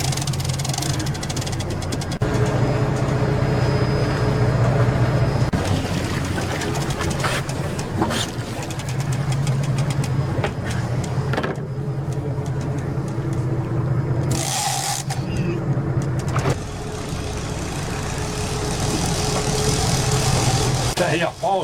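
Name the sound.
boat engine running during tuna fishing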